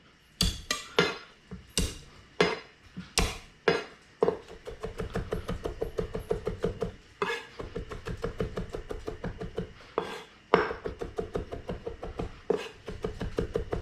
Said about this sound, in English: a few cloves of garlic, just going to trim off the ends. Give them a smash.